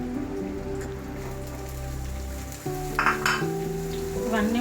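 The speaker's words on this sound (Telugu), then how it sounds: "ఇవన్నీ మంచిగా డీప్ ఫ్రై చేయాలి" Onions deep frying in oil for dosa give a continuous crackling sizzle under a steady low hum, with a few brief utensil clinks near the end.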